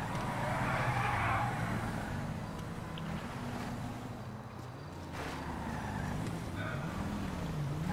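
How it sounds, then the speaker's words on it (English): A Mustang Fox car drives in GTA 5, its engine a steady, continuous drone that rises and falls in pitch as it accelerates and eases off, with rushing wind-like noise throughout. "That's a Mustang Fox, buddy."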